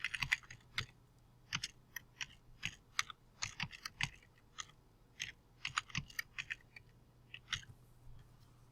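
Typing on a computer keyboard to enter a program name for a Lost Marble Maze milling job: irregular bursts of close, crisp key clicks with short pauses between runs, and no talking.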